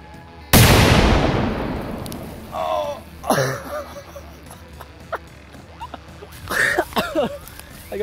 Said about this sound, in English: Here goes an M80 full stick firecracker.